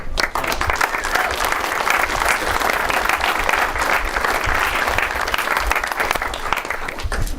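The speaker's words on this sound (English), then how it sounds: "If you guys are tired of clapping, you don't have to clap." Dense, sustained applause fills a campaign rally crowd in Milwaukee, a loud, continuous wash of clapping that holds steady from start to finish with no break.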